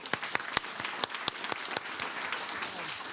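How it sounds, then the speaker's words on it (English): An audience applauds at the close of an EIB Group Forum panel on technology and the EU financial sector, a dense wash of hand clapping with sharp individual claps standing out, steady throughout. "I think we need to applaud."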